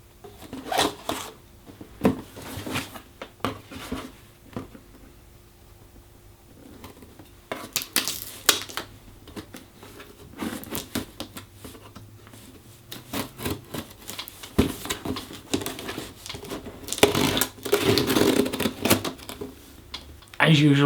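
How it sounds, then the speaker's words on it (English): A cardboard box is cut open with a large kitchen knife, giving repeated scraping, rubbing and slicing strokes in bursts, with someone talking between them. "when opening a box like this, you have to remember to find the biggest kitchen knife you can find"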